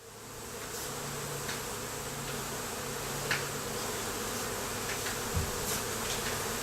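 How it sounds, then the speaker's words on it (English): Honey bees hum in a dense, continuous drone during a hive inspection while the comb is cut, with a few nearer bees passing close. The buzzing is steady and moderately loud, and no one speaks. "I've aggravated the bees quite enough."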